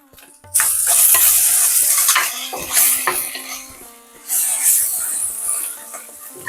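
Curry leaves sizzling and crackling as they temper in hot oil in a clay pot while venison masala cooks, a steady loud frying hiss with stirring scrapes and a fresh burst of sizzle partway through.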